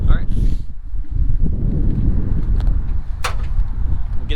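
Wind blows outdoors around a turbo Coyote-swapped Ford LTD wagon, a steady low rumble of gusts buffeting the microphone throughout, with a brief faint tick and some background voices.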